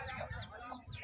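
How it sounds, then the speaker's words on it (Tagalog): Chickens clucking nearby in a steady, busy stream of short calls, with some background noise mixed in. "May manok dito, may manok."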